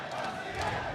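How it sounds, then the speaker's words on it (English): A crowd at an MMA event in Perth roars steadily in support of a fighter, a dense continuous wash of cheering and shouting across the whole second. "you can hear the crowd getting behind their man"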